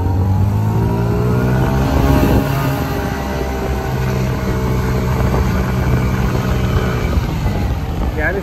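Mondial 50 Wing 2023 scooter engine, a 50cc run-in at about 1000 km, droning and revving loudly and continuously close by, with pitch rising and falling and wind noise on the ride.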